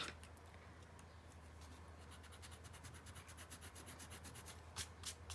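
A 3B graphite pencil scribbles on paper in quick, close rasping strokes, a soft continuous scratching that turns into faster repeated scrapes near the end.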